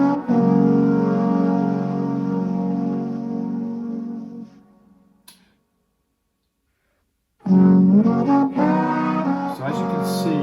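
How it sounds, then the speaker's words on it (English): A choir of trombones plays the main melody in full sustained harmony, loud and rich, fading into a few seconds of silence before the brass section returns with bold, swelling chords. "with a choir of trombones playing the main kind of melody"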